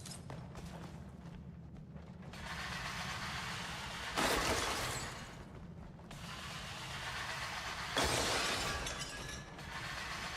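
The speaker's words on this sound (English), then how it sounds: "Sounds like I'm breaking glass." Breaking glass in the video game Crimson Desert sounds as a steady crunchy grinding texture with two sharper bright shattering bursts partway through, fairly faint overall and with no voice.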